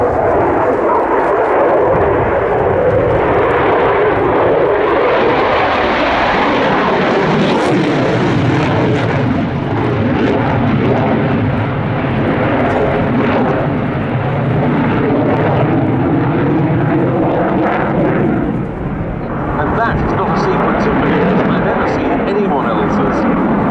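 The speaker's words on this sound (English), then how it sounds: "F-16 display." An F-16 fighter jet performs a display at the RIAT airshow, a loud continuous roaring engine rumble that swells and shifts as it passes, with a commentator talking over it.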